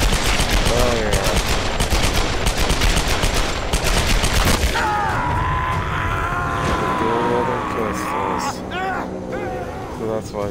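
An enemy in Tomb Raider fires dual pistols in a rapid, dense stream of close shots for several seconds, followed by talking over quieter game sounds.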